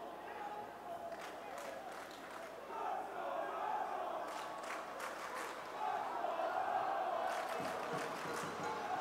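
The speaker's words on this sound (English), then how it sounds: "Chant of Let's Go Red Bulls rings up from the crowd" A stadium crowd at a New York Red Bulls II versus Louisville City FC soccer match chants "Let's Go Red Bulls," a rising, swelling roar that carries on at a distance under continuous commentary.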